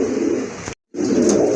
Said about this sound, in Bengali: খুবই ভালো ডাকে দেখার মতো এক জোড়া কবুতর